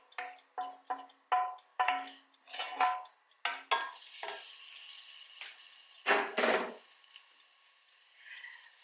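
Cooked ground beef stirred into a saucepan, a utensil scraping browned bits off the bottom: a series of sharp, rhythmic metallic scrapes and clinks, close and fairly loud, followed by a few softer scrapes.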